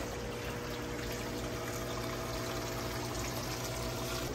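Prepared salt water for an aquarium invertebrate tank is poured slowly into a container, giving a constant, even rush of liquid with no breaks and no voices.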